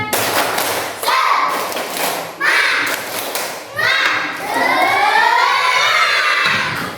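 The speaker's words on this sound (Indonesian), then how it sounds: "Masih ingat dengan tepuk semangat? Tepuk semangat." Schoolchildren in a classroom shout and clap through the tepuk semangat chant, with repeated rhythmic claps and thumps under loud, close group voices that keep going throughout.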